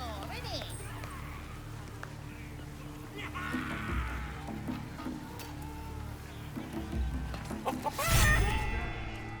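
A chicken clucks in the video game Baldur's Gate 3, short soft calls scattered over a steady game ambience, with a louder burst of commotion near the end; people talk over it at times.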